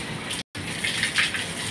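Water gushes and splashes as it is poured over an American Bully dog during a bath, a dense continuous rush broken by one brief gap, close and fairly loud with no talking.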